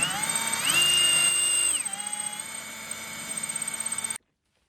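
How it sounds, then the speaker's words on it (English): A power drill bores out a bolt head on a Land Rover Defender, a loud whining motor that rises in pitch under load, then drops and chatters with rhythmic grinding pulses before stopping abruptly. "what we're gonna have to do is just drill the head of this bolt out"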